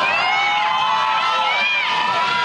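Employees of TSMC lined up with pom-poms, flags and banners at a company sports day cheer and shout loudly and steadily as a large crowd, a dense wall of overlapping voices with no pause.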